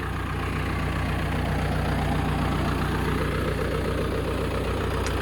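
A tractor engine drones steadily and close, a loud low rumble with constant vibration throughout and no break.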